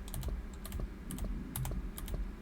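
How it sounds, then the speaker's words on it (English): Clicky computer keyboard typing during a puzzle game session, a steady run of close, crisp keystrokes in quick irregular bursts with no talking. "Obviously a part of it is like you hearing my keyboard"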